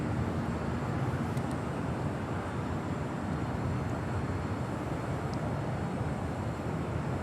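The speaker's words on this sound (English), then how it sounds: "Next arrival here on the south side, FedEx Flight 749 coming in from Memphis, 767-300 freighter." A FedEx Boeing 767-300 freighter arrives at Los Angeles International Airport, its engines a steady broad roar that stays fairly even and distant throughout, with no speech.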